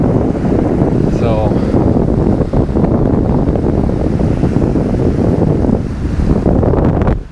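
Strong wind buffets the microphone over waves washing into a small bay on Lake Huron in Michigan, a loud continuous roar throughout.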